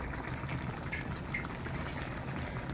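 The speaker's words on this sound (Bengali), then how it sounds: "টমেটোটা যখন এভাবে টকবগি বলক চলে আসবে" A tomato fish curry simmers at a rolling boil, giving a dense, continuous bubbling and gurgling close by at an even level.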